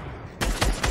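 Fortnite video-game gunfire bursts in after a quiet stretch, with three loud, close shots in quick succession and no talk over them.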